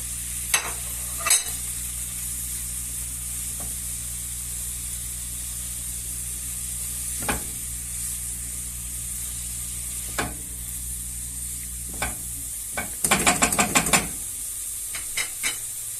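Onions sautéed with meat in a pan for homemade hawawshi: a steady sizzle with scattered spoon scrapes and stirring knocks, then a busier burst of stirring near the end, with no talking.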